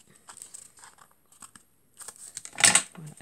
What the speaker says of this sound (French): je viens mettre un coup de ciseau